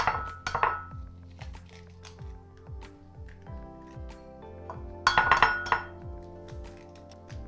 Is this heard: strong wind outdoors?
no